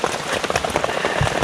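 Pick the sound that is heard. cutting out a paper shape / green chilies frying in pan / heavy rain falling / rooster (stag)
heavy rain falling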